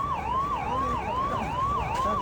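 A fire engine siren wailing at a large fire near Pahelo Pul in Kathmandu, a rapid rising-and-falling yelp repeating steadily, fairly loud over low traffic rumble.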